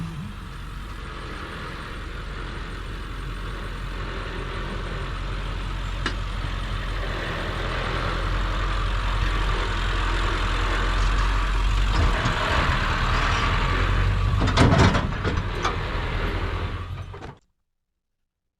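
A diesel truck with a manual transmission hauls farm loads along a road, a loud continuous engine drone that builds steadily, with a brief clatter near the end before the sound cuts off.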